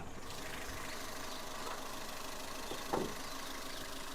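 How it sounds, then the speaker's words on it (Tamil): A 2012 Toyota Etios Liva petrol engine idles close by with a steady, even hum that holds for the whole stretch, plus one brief knock near the end and no talking. "இப்போ இந்த வண்டியோட இன்ஜின் நம்ம ஸ்டார்ட் பண்ணிட்டோம்"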